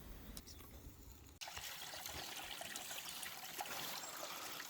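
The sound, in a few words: water trickling into a mountain water collector tub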